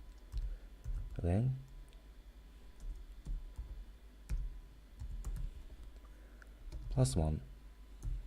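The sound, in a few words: typing JavaScript code on a computer keyboard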